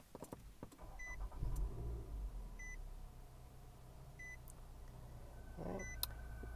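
A 2013 Nissan Altima Coupe SV being started with its push button: a few short electronic chimes repeat at intervals, with a brief whir and mechanical clunk near the start and an engine settling into a low, steady idle.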